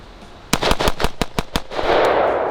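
Rifle fired repeatedly at a range to empty the rest of its magazine, seven sharp close shots in a quick uneven string, followed by a lingering noisy echo.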